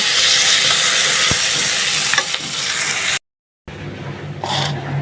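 Onions fry in hot oil in a Bengali home kitchen, a steady loud broadband sizzle that runs for about three seconds. It cuts to a brief silence, then resumes with a softer hiss and light stirring.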